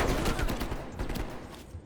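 Call of Duty gunfire crackles in rapid, dense bursts that blur into a continuous fusillade, loud and close in the game's mix.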